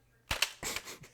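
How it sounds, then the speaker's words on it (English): A toy gun barrel being handled gives a few sharp, close clicks and rattling snaps in quick succession, loud against an otherwise quiet room with no talking. "If you hear any clicking going about, I'm messing with the barrel of his gun."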